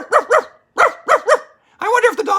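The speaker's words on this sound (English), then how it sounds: "There's a dog outside." Dog barking outside in a quick series of loud, sharp barks, two pairs and then a longer rougher volley, near and clear with nobody talking over it.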